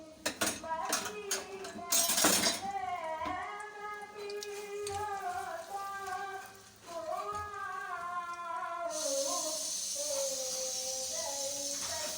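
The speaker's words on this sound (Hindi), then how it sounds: "अब ये मेरा तेल गरम हो गया है तो मैं ये 2 प्याज डालूँगी।" Two onions go into hot oil in a pan while chole is being cooked. Someone talks throughout, and a bright, steady sizzle rises for the last few seconds under her voice.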